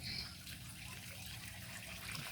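Water drains from a crayfish pond in a soft, steady trickling wash, faint and continuous throughout with a low murmur underneath.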